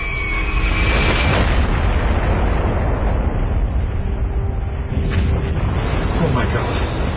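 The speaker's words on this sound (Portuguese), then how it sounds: "A Little Boy explodiu sobre Hiroshima com uma força de mais de 13 mil toneladas de TNT." Atomic bomb blast over Hiroshima, a dense, continuous roaring rumble that fills the whole stretch, loud and unbroken with no distinct onset.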